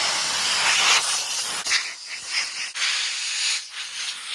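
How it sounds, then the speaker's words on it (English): Air compressor blowing light bursts of air to clear hair out of a PlayStation 1 disc spindle assembly, a loud steady hiss in several surges with brief gaps, close up and with no talking. "First, I'm just going to use some light air pressure with the air compressor and just blow some of this hair out."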